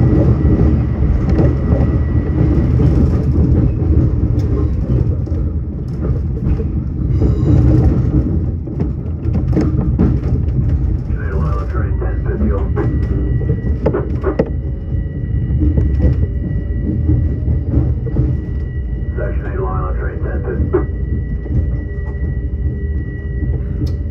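A commuter train on a Long Beach to Penn Station run makes a slow approach on track 2, giving a continuous loud low rumble and rolling rail noise with faint squeals and clanks throughout, no voices.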